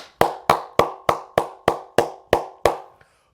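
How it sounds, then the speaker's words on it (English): Nine sharp, evenly spaced hand claps ring out close and alone at a slow steady beat, ending with a faint tap. "Tua, you get the round of applause."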